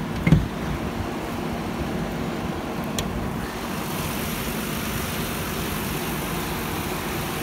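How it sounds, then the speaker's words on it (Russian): A 2001 Nissan Maxima A33 with a 3.0 engine and automatic gearbox idles under an open hood, giving a steady, even low hum with no voices. "Мотор работает ровно,"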